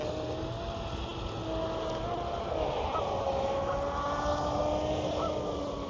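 A ProBoat SonicWake 36-inch RC boat on a shallow pond gives off a steady, high electric motor whine with tones that rise as it speeds up, heard from a moderate distance over a rushing outdoor background.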